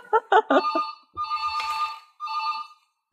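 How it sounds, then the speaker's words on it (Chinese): A mobile phone ringtone plays for an incoming call during a stay in quarantine lodging, a bright repeating electronic melody in short phrases with brief pauses, near and clear with no talk over it. "我接个电话不好意思啊"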